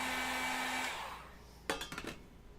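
A heat gun or hair dryer blows on a stuck, glued-on part with a steady whirring roar that winds down and stops, followed by a few sharp clicks and knocks close by.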